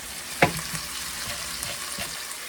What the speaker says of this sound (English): I'm going to go ahead and put in 1/4 cup of flour, and that's going to mix in there and make a nice sauce for us.